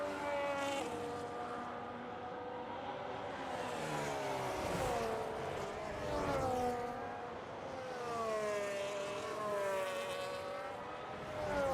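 An F1 car engine in a racing video game on a qualifying lap at the Dutch GP, screaming high revs that rise and drop through gear changes and corners, loud and continuous with no talk.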